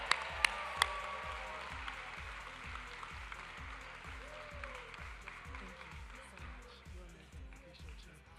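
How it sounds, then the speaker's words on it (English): An audience at a charity gala program applauds in a soft, distant patter. A steady low thumping beat of background music runs underneath, with a few sharp knocks near the start. "Big round of applause"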